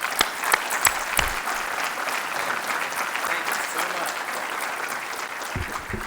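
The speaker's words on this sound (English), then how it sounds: "please join me in giving Congressman Rigell a big hand of applause" Audience applause at a NASA Langley honor awards ceremony for a congressman arriving to give the keynote, a dense sustained crowd clapping with a few sharp close claps early on.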